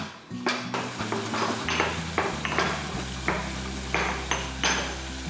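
Cardamom and black pepper being pounded into a coarse powder for masala coffee, a series of sharp, regular thuds in a kitchen over a steady low background hum.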